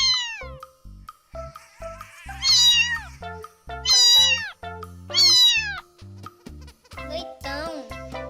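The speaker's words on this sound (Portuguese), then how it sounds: "Gato." A domestic cat meows several times in clear, loud, separate calls, with gentle music playing underneath.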